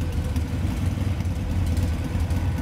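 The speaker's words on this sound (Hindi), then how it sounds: "मेरा मोटरसाइकिल खराब हो गया था।" A motorcycle engine runs steadily at a low, even rumble, close and fairly loud, with no revving or changes in pitch and no voices.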